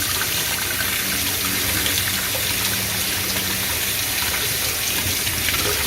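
Running tap water pours steadily into a sink while food is washed for a pizza lasagna, a loud, continuous close splashing gush with no breaks.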